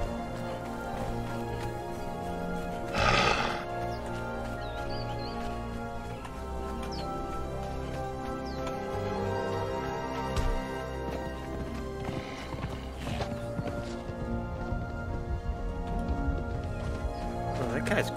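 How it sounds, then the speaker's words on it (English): In the video game Conan Exiles, a horse's hooves clip-clop at a steady galloping rhythm, moderately loud and continuous, while players talk over it. "I see John on a horse riding away"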